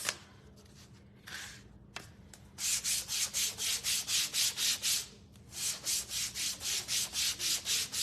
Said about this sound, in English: let's sand these pieces